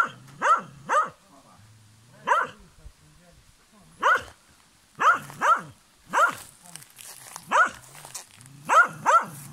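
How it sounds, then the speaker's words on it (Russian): A dog barks repeatedly in sharp, loud, close barks at an uneven rhythm at a mountain camp in the Almaly gorge, with a voice speaking between some barks. "Не лай, не лай на меня."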